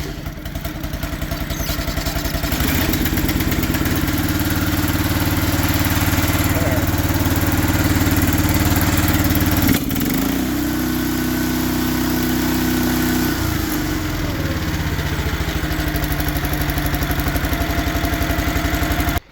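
A Honda lawn tractor engine idles steadily and close up, a continuous low mechanical drone with light clatter that holds even throughout, with no talking over it.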